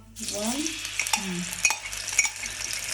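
Ginger garlic paste sizzling in hot oil in a pan, a steady close frying hiss with occasional stirring scrapes and pops throughout.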